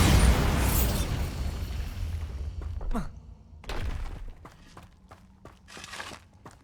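Spell blasts from Bombarda and Confringo go off in Hogwarts Legacy, a big booming burst followed by several sharp pops and thuds with rumbling decay, mixed with game footsteps.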